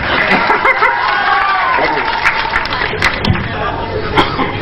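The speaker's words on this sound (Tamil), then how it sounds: "அதுக்கு ஒரு கரகோஷம் கொடுங்க" An audience claps and cheers at a Tamil film audio launch, a loud, continuous wash of crowd applause with scattered shouts and chatter.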